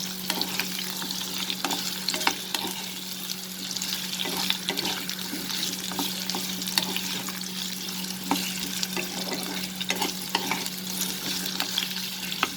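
Potatoes frying in a pan with a constant close sizzle, broken by repeated scraping and stirring clatters and a low steady hum from the stove underneath.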